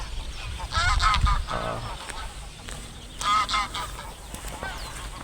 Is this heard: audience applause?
no